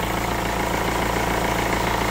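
A car's 1.6 HDi diesel engine idles just after an alternator replacement, giving a steady, loud, close mechanical rumble with an even rhythmic pulse and no talk over it.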